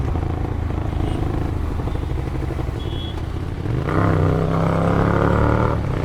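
Hyosung GTR 250 motorcycle fitted with a modified Austin Racing slip-on exhaust, idling with a rough, steady burble before revving up sharply around the midpoint and holding a louder, higher note close by.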